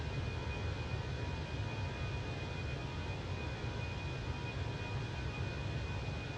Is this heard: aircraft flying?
yes